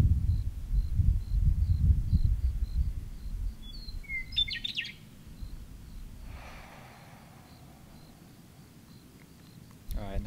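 Birds chirp in the distance: a thin, repeated call and a short burst of song, over low rumbling noise early on.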